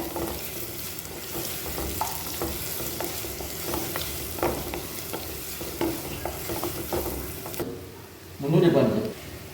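Ginger, onion and curry leaves frying in a hot pan with mustard seeds, a steady moderate sizzle with occasional stirring scrapes, ending in a brief louder clatter.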